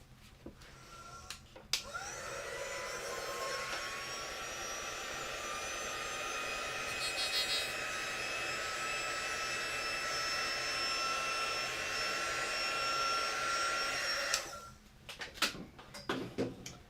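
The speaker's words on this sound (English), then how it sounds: "Grab my quick dry tool." A quick dry heat tool blows air steadily and fairly loudly for about twelve seconds while chalk transfer mesh is being worked on, with a click at the start and brief handling knocks as it stops.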